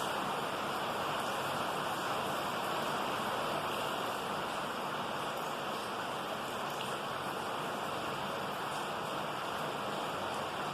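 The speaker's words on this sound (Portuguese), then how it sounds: "Perceba a água batendo no chão, no telhado," Rain falls steadily on the ground, a roof and walls in a continuous, even hiss, fairly loud and unbroken, with no voices over it.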